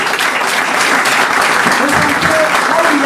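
Loud, sustained applause and cheering from an audience at a French-language inspirational talk, thick clapping that fills the whole stretch with some voices mixed in.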